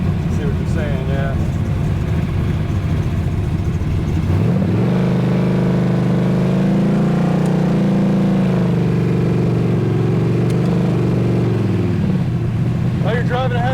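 1968 HEMI Dodge Dart GTS muscle car engine on the move, a loud, close, steady rumble that swells into a sustained drone midway and then eases off, with speech around it.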